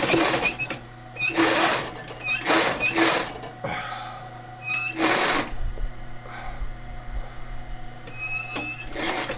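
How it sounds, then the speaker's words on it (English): A sewing machine stitches across a fabric gusset in several loud bursts of rapid needle chatter, separated by short pauses, with steady machine hum underneath. "So we're going to go ahead and stitch across like this."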